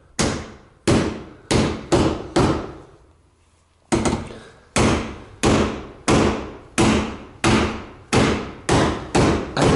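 Heavy blows from a large hammer strike the dented metal body of a Nissan Bluebird one after another in a steady rhythm, each a loud ringing bang, with a brief pause partway through.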